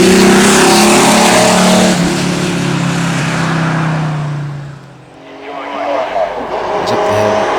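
A TVR race car with a 2.9 Cologne engine accelerating hard up a hill at a Loton Park speed event, loud roaring engine that rises and then fades briefly before returning.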